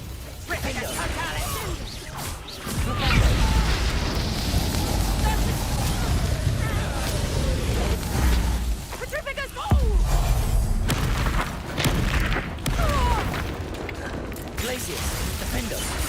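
Flipendo spell blasts and other combat spells in Hogwarts Legacy, heavy booming impacts and crashing bursts through a busy battle, with voices talking over the action.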